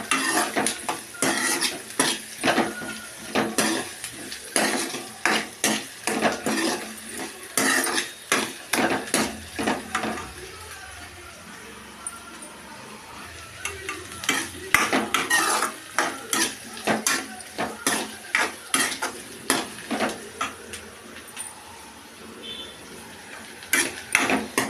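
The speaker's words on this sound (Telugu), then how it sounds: "దొండకాయ ముక్కలు వేగిపోయాయి, వేగుతున్నాయి." Ivy gourd pieces being fried and turned in a pan, with frequent sharp clanks and scrapes of a metal utensil against the pan over a faint sizzle, alone and close.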